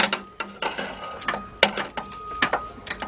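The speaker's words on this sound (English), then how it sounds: "So what I'm going to do is switch up and get my 13mm swivel socket." A ratchet fitted with a 13mm swivel socket works a bolt loose on a 2002 Dodge Stratus 2.4, sounding as close, irregular bursts of clicking pawl strokes.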